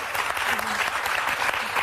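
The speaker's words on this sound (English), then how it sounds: "Light applause." Studio audience at a daytime talk show giving light, steady applause, a continuous patter of many hands heard briefly and alone.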